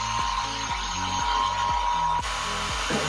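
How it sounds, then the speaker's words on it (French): Stand mixer running at maximum speed whipping chickpea water (aquafaba), a loud continuous motor whine with a rhythmic pulsing drone from the whisk, steady throughout before cutting off at the end. "Je verse mon jus de pois chiche et j'allume le robot. Vitesse maximum."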